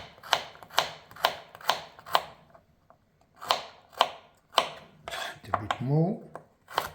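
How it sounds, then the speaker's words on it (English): A knife dices carrot on a cutting board in a run of sharp, evenly spaced chops close by, pausing briefly before a few more cuts, with a short spoken remark near the end. "now I need some carrot, diced"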